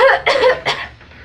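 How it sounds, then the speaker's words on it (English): A woman in a Regency-era drama, Pride and Prejudice, coughs three times in quick, close, loud bursts, followed by a faint trailing breath. "you may cough to your heart's content"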